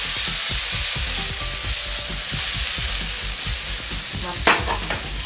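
A veggie burger fries in a little oil, giving a loud, steady sizzle close by, with low scraping stirs underneath and a brief louder clatter near the end.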